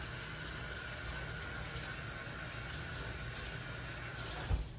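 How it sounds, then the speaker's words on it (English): Hands are washed under a running kitchen tap, giving a steady, soft rush of water that continues throughout, with a small knock near the end. "I'm going to give my hands a wash."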